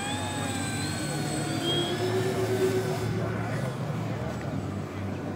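FlightLine RC F7F Tigercat 1600mm twin-engine model plane taking off at an outdoor flying event, a steady loud electric motor whine with rising and falling tones as it passes, voices talking faintly underneath.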